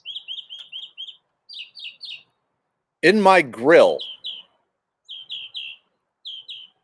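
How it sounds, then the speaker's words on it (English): Small birds chirp in the morning in short, bright bursts of repeated tweets, clear and fairly close, pausing while a person speaks briefly in the middle. "every morning, seeing the birds has actually been pretty cool."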